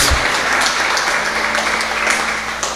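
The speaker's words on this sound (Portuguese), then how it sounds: "Se você puder, aplauda o Senhor bem forte." A church congregation applauds during a worship service, a dense, steady wash of clapping from many hands that holds at an even level throughout.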